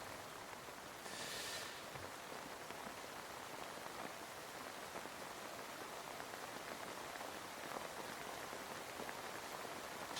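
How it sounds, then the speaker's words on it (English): Heavy rain falls outside as a continuous, even hiss of drops on surfaces, moderately quiet and unbroken for the whole stretch, with a brief brighter burst of noise early on and no talking. "Okay, too much rain, too much rain"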